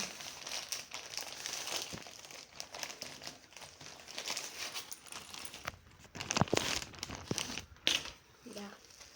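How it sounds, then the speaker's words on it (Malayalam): A plastic pouch package is unboxed, giving soft, close crinkling and rustling that rises into sharper tearing and crackling near the end, with a person speaking at times. "അപ്പോൾ ഞാനത് അൺബോക്സ് ചെയ്ത് കാണിച്ചു തരാവേ. അപ്പോൾ നമുക്ക് അൺബോക്സ് ചെയ്യാം."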